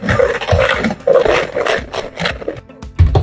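Homemade nail product being stirred together with room-temperature coconut oil in a bowl, giving close, uneven rubbing and scraping strokes in short bursts with brief pauses.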